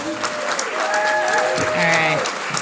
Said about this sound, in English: Can we have another round of applause for Kali?